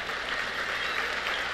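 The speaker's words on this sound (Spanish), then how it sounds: "Un aplauso para Guillermo." Steady audience applause at a stand-up comedy convention show in Bogotá, a dense even wash of clapping that holds throughout without a break.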